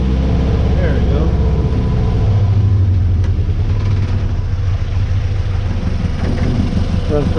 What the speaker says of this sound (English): Runs pretty good. Running on its own fuel pump and everything. Got that performance exhaust.